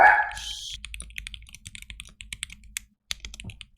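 A single short dog bark at the start, followed by a run of close keyboard typing clicks.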